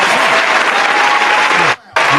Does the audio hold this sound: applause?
yes